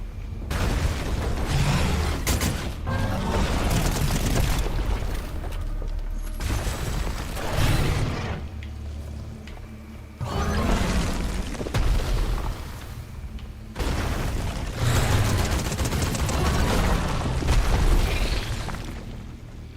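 Heavy booming blasts and bursts of gunfire from a Fortnite match, loud and repeated in clustered waves across the whole stretch with no talk over them.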